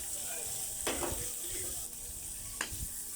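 Red onion and ginger frying in a pan for Filipino bam-e, a continuous faint sizzle under occasional scraping stirs, heard close with no talking.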